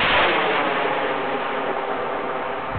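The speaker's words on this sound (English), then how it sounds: "So this is the line throwing rocket" A line throwing rocket launches with a loud, rushing roar that bursts in at once and then fades gradually as it speeds away, with no voices over it.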